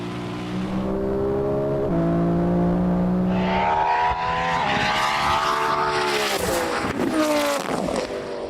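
Xiaomi SU7 Ultra electric car launching in a drag race against a Nissan GT-R and a Lamborghini, a loud rising whine of acceleration that climbs in pitch, mixed with roaring engine revs and a brief tire squeal toward the end.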